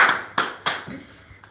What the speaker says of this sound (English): Now is where everyone applauds